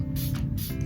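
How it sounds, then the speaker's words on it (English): Makeup setting spray hisses from a mist bottle in short close puffs, two or three quick bursts spread over a low steady background hum. "What I do now is setting spray,"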